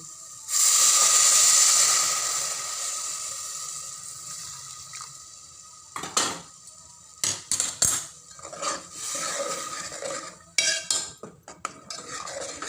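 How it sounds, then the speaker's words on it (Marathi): Hot water poured into a sizzling pan of usal made with matki (moth beans) sets off a loud burst of steamy hissing, then fades to scattered clinks and scrapes of stirring. "आणि त्यात आपण टाकतोय आता गरम पाणी."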